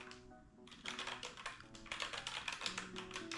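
Fingers type on a mechanical keyboard with aluminum parts, a quick, quiet run of overlapping key clicks and taps against a low background hum.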